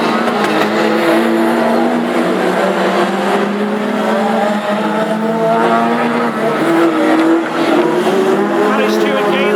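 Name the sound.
classic hot rod race cars racing on oval track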